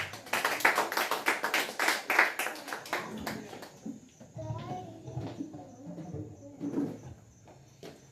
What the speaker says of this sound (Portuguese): Sirva a serva do Senhor com palmas para Jesus